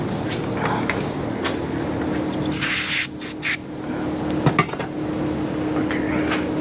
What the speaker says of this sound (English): spray some brake clean on it